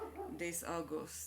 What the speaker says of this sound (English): sorry for the dog